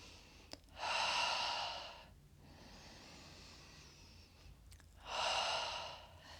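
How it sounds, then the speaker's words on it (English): Deep breathing during a gentle yoga routine: a long breath, a quieter pause, then another breath, close and alone with no talk. "And then just inhale, so the gentle lift up. Exhale out the mouth. So we do 3 breaths here."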